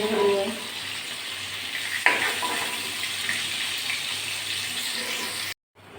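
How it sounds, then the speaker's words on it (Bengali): Cinnamon sticks and bay leaves crackle in hot oil used for frying pointed gourd, a steady broadband sizzle with a sharp pop near the middle, ending abruptly in silence. "দারচিনি আর তেজপাতা ফোড়ন দিয়ে দিলাম"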